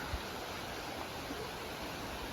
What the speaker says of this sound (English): There is something nice about walking along a river or a stream.